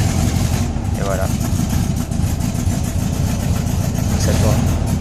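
A car engine that is not the original unit idles loudly and steadily throughout, a continuous low rumble with faint voices briefly over it.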